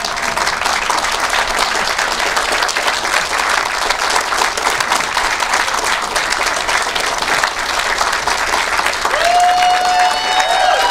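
A graduation ceremony audience applauds steadily and loudly for about ten seconds, a dense wash of many hands clapping with faint crowd murmur, at a seminary commencement.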